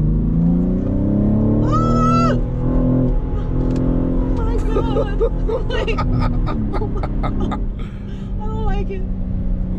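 A 2024 BMW M3 Competition xDrive accelerates hard, its engine note rising in a loud, steady drone with harmonic sweeps, while people talk and exclaim excitedly inside the cabin throughout.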